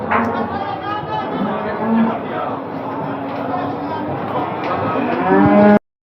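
Cattle at a livestock market in Barda, including heifers fattened for meat, moo repeatedly amid a steady murmur of crowd chatter, with a louder close moo near the end.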